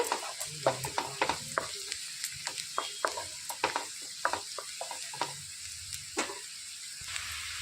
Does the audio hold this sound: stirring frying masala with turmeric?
yes